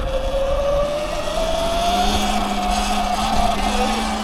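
Surron electric dirt bike riding along, a steady rising electric motor whine with rushing wind noise, loud and close, no talk.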